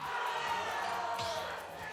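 Crowd at a video game tournament venue during a Super Smash Bros. pools match, a distant roar of cheering spread across the hall, steady and muffled beneath the commentary.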